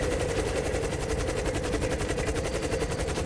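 Continuous rapid automatic gunfire in an air-combat video game, fired at an enemy plane, loud and steady throughout with no talk.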